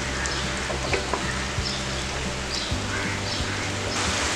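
Chicken gravy bubbles and sizzles in a pan over a full gas flame, a dense, steady crackling hiss with low bubbling throughout, close and continuous with no talk.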